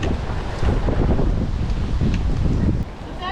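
Strong outdoor wind buffets the microphone in a loud continuous roar during a delivery driver's rounds, easing slightly near the end.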